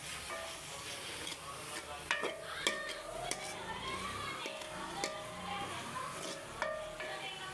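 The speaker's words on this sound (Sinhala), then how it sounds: "කැරට් ටික දාගෙන ටිකක් කලවම් කරගන්න පොඩ්ඩක් තැම්බෙනවා" Carrots being stirred in a cooking pot: a utensil clanks and scrapes against the metal pot at irregular moments over a soft, constant sizzle, heard up close.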